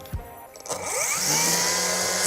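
A Greenworks brushless battery grass trimmer spins up after a couple of handling knocks, its whine rising quickly to a loud, steady high-pitched whir that holds close and alone.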